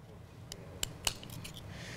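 Small scissors snip thread while a sandal is decorated with beads, giving a few quick, faint metallic clicks close by in a quiet room.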